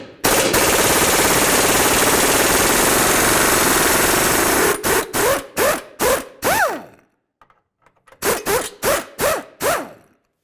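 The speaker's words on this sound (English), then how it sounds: "we'll come down underneath and remove the bolt using a 19 millimeter as well" Impact wrench with a 19 mm socket hammering out a lower control arm bolt on a 2011-2016 Hyundai Elantra: one long continuous rattling burst, then several short bursts, each ending in a whirring spin-down, loud and close.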